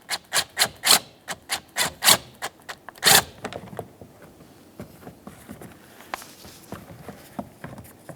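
A hand tool works an 8mm bolt on the rear driver's side interior door handle of a 1998-2002 Lincoln Navigator: a quick run of about ten close, rhythmic ratcheting rasps, then scattered softer clicks and scrapes.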